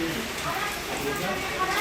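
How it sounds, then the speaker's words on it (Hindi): Heavy rain pouring down in Tashkent, Uzbekistan, a dense, steady hiss of drops drumming on surfaces, loud and continuous with a voice talking faintly underneath. "बारिश हो रही दबा के, पानी गिर रहा"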